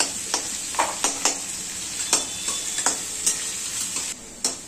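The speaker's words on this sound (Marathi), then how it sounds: "आता हा कांदा चांगला परतवून घ्यायचा" Onion sautéing in a pan for vegetable biryani, a steady bright sizzle with repeated sharp scrapes and clacks of a spoon stirring through it, close and fairly loud with no talking.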